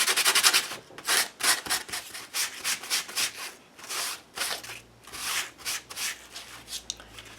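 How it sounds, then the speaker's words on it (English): Sandpaper rubbed by hand over a paper image, giving repeated dry scratchy strokes in a steady rhythm, close and fairly loud, with no talking. "So I took some sandpaper to this, brought up some of the texture of the image."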